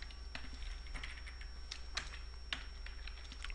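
Fast, light keystrokes on a computer keyboard, faint and close, with irregular clicks over a low steady hum.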